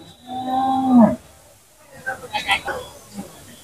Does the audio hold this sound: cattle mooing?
yes